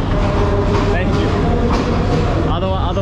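A train rumbles and rattles steadily at close range at a Sri Lankan railway station, its loud clatter filling the whole stretch while people talk over it.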